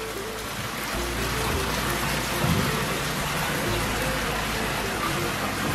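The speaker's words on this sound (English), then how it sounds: "Love this fountain here." Steady, dense splashing of a garden fountain in Thailand, water falling continuously in a broad hiss that stays even throughout without pauses.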